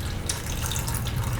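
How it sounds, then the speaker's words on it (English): Water being poured in a steady, continuous splashing stream, close and fairly loud, with no talk over it. "This is water."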